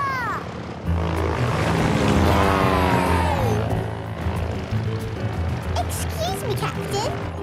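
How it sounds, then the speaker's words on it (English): Cartoon propeller plane droning steadily as it skims along water in a children's animated show, a continuous engine hum with music and character voices over it. "Look! A plane! On water!"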